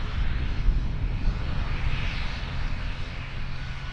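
An Air New Zealand Dash 8 turboprop in black and white livery at Auckland Airport makes a continuous engine drone with a deep low rumble and a hissing upper band, steady and fairly loud.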